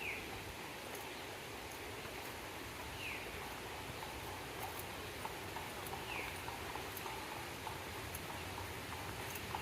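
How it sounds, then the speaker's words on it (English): Faint, distant clip-clop of a horse-drawn buggy passing on a hiking trail in Ravensburg State Park, under steady outdoor background noise, with a few soft bird chirps. "I hear a buggy."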